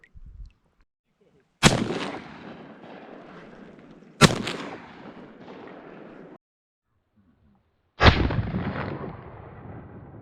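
Three loud shotgun blasts fired while duck hunting over decoys from a blind in Nova Scotia, each a sharp crack followed by a long rolling echo, with silent gaps between shots.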